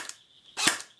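A single sharp shot from a G4 A2 airsoft rifle with blowback, one crisp snap near the microphone after a faint earlier click, alone without talk.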